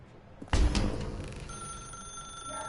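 An old-style telephone bell rings inside The Stanley Parable video game, a bright rattling ring that starts suddenly and carries on with a sustained tone over quiet room ambience, heard alone at moderate volume.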